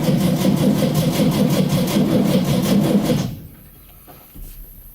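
A 1958 VW Beetle engine runs with a fast, even, pulsing chug, loud and close, then cuts out abruptly, leaving faint clicks and rustling.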